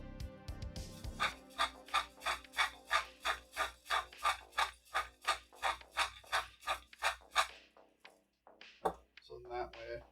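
Rhythmic gritty grinding as ingredients are mashed with a couple of tablespoons of sugar acting as an abrasive, about a dozen steady strokes in a row, close and fairly quiet, breaking off into a few irregular scrapes near the end.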